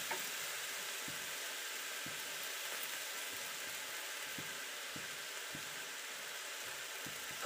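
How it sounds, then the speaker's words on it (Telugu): Tomatoes fry in a pan for a tomato pickle, giving a steady, even sizzle throughout. Faint regular ticks of stirring are spaced about a second apart. "ఇవి బాగా మగ్గే వరకు వేయించుకుందాం"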